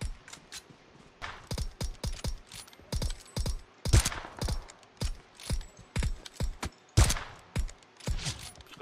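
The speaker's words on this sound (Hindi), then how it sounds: "टीममेट मुझे गोली मार गया एक" A long run of sharp gunshots in PUBG rings out one after another in a steady, fairly even rhythm, each crack distinct and moderately near, with no talking over them.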